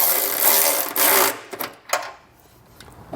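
A ratchet with a 17mm socket tightens running board brackets on a 2022 vehicle: a loud, rapid buzzing ratchet run that stops, then a few short clicks trailing off into quiet.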